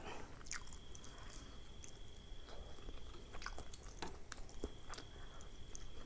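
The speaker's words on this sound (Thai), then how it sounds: "กินนังมันแสบนะ นังกรุบนะ" Someone chewing the crunchy skin of a boiled frog: soft, wet bites and crunches repeat at close range against a quiet background, with faint clicks, and no talking.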